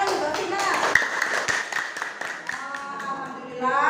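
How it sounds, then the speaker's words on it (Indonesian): A class claps for a student during an Islamic studies lesson, with scattered individual hand claps standing out over chatter and children's voices, fairly close and uneven rather than a full ovation. "Ya, tepuk tangan untuk Mbak Vina"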